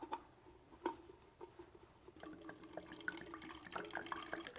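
Water is poured and measured out to exactly 16 ounces for a backcountry stove test, with soft splashing, trickling and dripping that starts as scattered drips and builds into a steadier, faint pour, with no talk.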